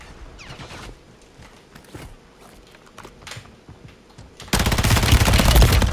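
Rapid bursts of WSP Stinger gunfire in Call of Duty Warzone on Rebirth Island, sharp clustered shots early on, then a loud, dense stretch of continuous automatic fire near the end.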